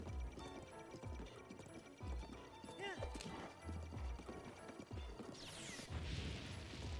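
A horse galloping and whinnying in a fantasy video game, with quick clip-clop hoofbeats, a rising whinny midway, and clanks and a crash as the horse catches fire near the end; a player talks over it.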